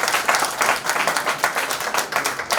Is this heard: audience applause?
yes